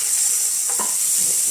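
Meatballs fry in hot olive oil in a pan, giving a loud, continuous, bright sizzle that holds steady throughout.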